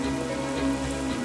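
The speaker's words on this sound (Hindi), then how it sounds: "और करेक्ट टाइम पे बरसात हो गई।" Rain falls in a steady, dense hiss, with a constant low hum running beneath it and no voices.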